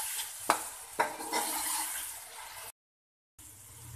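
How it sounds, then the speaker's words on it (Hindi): Garlic and green chili paste frying with onions in a pan for a fish pulao, with a steady sizzle, a couple of sharp stirring knocks near the start, and a brief gap of silence before the sizzling resumes. "इसको भी इसके साथ 1 मिनट 2 मिनट के लिए भुनेंगे।"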